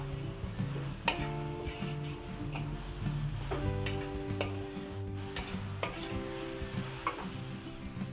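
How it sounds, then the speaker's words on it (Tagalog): Carrots, cabbage and green beans stir-fry in a pan for a Filipino dish, a steady sizzle with scattered stirring clatters and utensil taps throughout, no talking. "I-stir fry natin. Carrots, repolyo at bagu beans."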